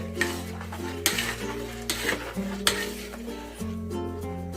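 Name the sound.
stirring jaggery into patisapta batter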